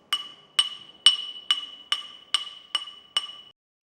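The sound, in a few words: ball peen hammer edge striking a handmade metal ring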